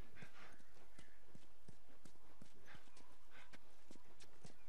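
Horse hooves clip-clop steadily in The Last of Us video game, a regular run of sharp knocks at moderate distance over a faint ambient bed.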